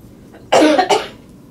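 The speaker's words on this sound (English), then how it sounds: "I'm going to apologize every time I cough." A person in a quiet room gives two close, harsh coughs, loud and near, with faint room noise around them.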